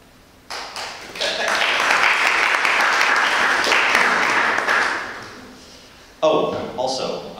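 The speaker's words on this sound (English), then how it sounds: "You clap." Audience at a CakePHP programming keynote breaks into clapping, a few seconds of moderately loud, dense applause that fades out before a presenter's voice resumes.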